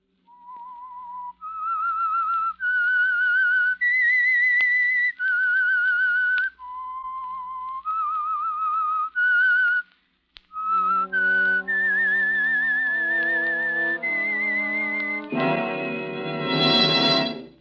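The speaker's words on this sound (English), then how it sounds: "That whistle is your signal for the Signal Oil Program, The Whistler." The Whistler radio show's signature whistle: a clear, close melodic tune of sustained, sliding notes, backed midway by an organ-like chord accompaniment that swells into a loud closing flourish, no talking.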